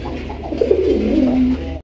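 A sky-blue Raj Golla pigeon gives a low, throaty coo that swells and drawls out in one rolling call, close and clear over faint background hum.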